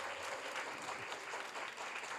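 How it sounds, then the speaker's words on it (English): Conference audience applauding at an education research closing ceremony, continuous clapping from a sizable crowd, steady and somewhat distant in a large hall. "let's start the closing ceremony, ISO 2026, with a round of applause for all of us."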